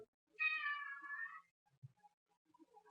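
A cat gives a single clear meow, close and alone, lasting about a second, followed by faint small background sounds in a quiet room.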